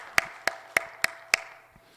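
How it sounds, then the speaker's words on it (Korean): A church congregation at a Wednesday service claps in unison, five sharp, evenly spaced claps in quick succession, each ringing briefly in the room, then a faint last tap. "아, 박수 한번 좀 쳐주세요."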